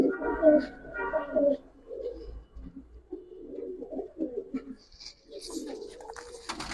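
Giribaz pigeons in a loft give repeated soft, throaty coos at close range, with someone talking now and then between and over the calls.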